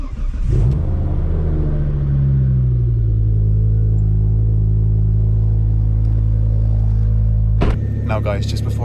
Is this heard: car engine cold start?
yes